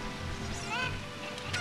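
A chicken in Legend of Zelda Ocarina of Time lets out a couple of short squawking clucks, faint and brief against quiet game background sound.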